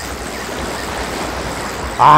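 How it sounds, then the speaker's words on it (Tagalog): Continuous rushing noise of ocean waves, steady and broad, swelling louder in the final moment as the waves grow stronger. "Grabe, lumalakas na yung alon."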